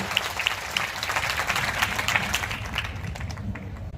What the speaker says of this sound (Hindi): एक बार जरा सबके तालियां उठे, तालियों में तब्दील हो ढंग से